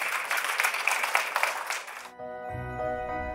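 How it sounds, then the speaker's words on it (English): Audience claps for a panel of four public transport leaders, with dense applause for about two seconds that cuts off abruptly as music begins. "Let's give them a round of applause."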